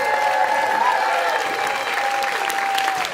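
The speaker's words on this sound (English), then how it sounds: "Can we give them another round of applause?" An evening audience claps steadily after a dance performance, a dense, sustained wash of applause with a faint tonal hum running beneath it.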